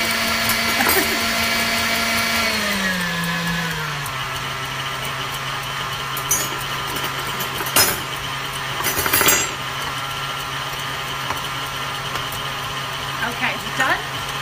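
Electric mixer whipping chocolate mousse, a loud steady motor whine that drops in pitch as it loads up and then holds, with clinks against the bowl and talking over it.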